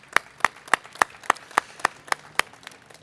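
About ten evenly spaced sharp claps, fairly near and moderately loud, celebrating an affordable housing project with no voices over them.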